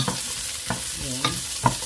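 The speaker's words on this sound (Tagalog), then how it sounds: "I-fry ko lang po ito sa kaunting oil para medyo masarap ang lasa niya." Banana and corn frying in a small amount of oil, a low steady sizzle punctuated by about four distinct scrapes and taps of a utensil stirring the pan, with no talk.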